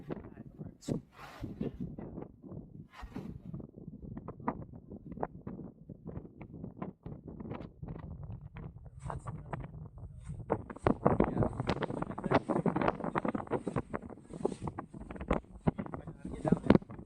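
Gusty beach wind in Boracay buffets the microphone in rumbling bursts, growing stronger toward the end, while people talk nearby throughout.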